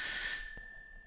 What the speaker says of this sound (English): so we've got us a doorbell.